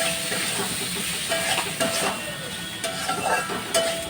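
Tomato and sugar sauté in a pan for mochar ghanta, giving a soft, steady hiss and sizzle with faint crackles, fairly quiet and continuous.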